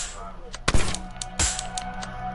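Two sharp, close sniper rifle shots in the Rec Room game, loud cracks about a second apart over a faint background hum.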